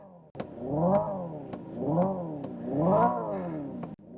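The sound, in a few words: Hyundai IONIQ 5 N electric car simulated engine revving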